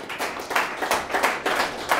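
A church congregation claps hands during a sermon, a rapid patter of many overlapping claps in uneven bursts, fairly close and steady through the brief moment with no speech.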